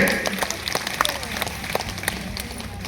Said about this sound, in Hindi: ताली बजा देंगे